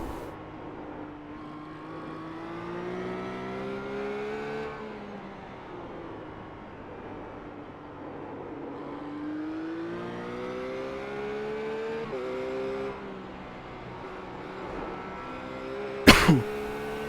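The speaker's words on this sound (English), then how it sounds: "You can hear the new tire sounds." Race car at the Nurburgring in the iRacing sim, its engine note climbing and falling through gear changes with tire scrub beneath, steady and close, ending in a sharp loud burst near the end.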